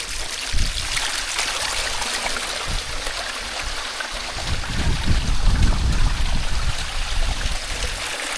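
A monsoon rainwater stream rushes down the Tung Fort trail in Maharashtra, a continuous close hiss of flowing water that swells louder toward the end.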